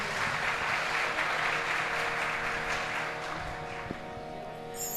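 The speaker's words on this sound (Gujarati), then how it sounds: "સૌથી પહેલાં પ્યુપલ્સ ઓન સ્કૂલ માટે, પ્યુપલ્સ ઓન ટ્રસ્ટ માટે અને આ સર્વે કલાકારો માટે જોરદાર તાળીઓ થઈ જાય" Audience applause at a Gujarati light-music concert honoring the performers, steady dense clapping from a large crowd sustained for the full stretch, fairly loud and even.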